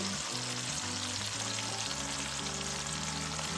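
Onions fry in hot oil with water added, giving a steady, loud sizzle that runs without a break. A low tonal hum sits underneath, and no one speaks.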